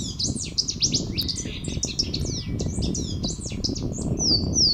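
A loud, clear Louisiana waterthrush calls repeatedly with bright, rapid slurred notes over a low murmur of running water.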